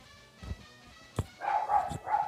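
A few dogs bark off in the distance during a walk, with short yips and several rising barks in quick succession toward the end, fairly faint against the outdoor background.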